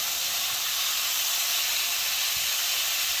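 Steak cooking on a hot cast iron skillet hisses loudly and evenly, a dense continuous sizzle with no talking.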